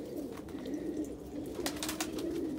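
Pigeons in a loft after an ice storm coo in low, continuous, overlapping rolls, fairly close and steady, with a few brief clicks and rustles on top.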